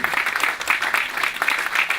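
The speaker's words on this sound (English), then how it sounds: "Yes, that does deserve applause." Audience at a JFK memorial celebration breaking into applause, a dense, steady burst of many hands clapping with no talk over it.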